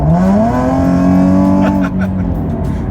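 A Nissan 370Z's VQ V6 engine revving, a raspy, breathy tone that climbs and holds high, then drops off sharply, loud and close with a voice talking over it.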